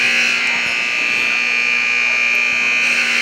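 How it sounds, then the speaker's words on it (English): A sticky scoreboard buzzer at a high school girls basketball game sounds as one loud, steady electronic drone that holds unbroken for several seconds with no voices over it. "It's a sticky buzzer."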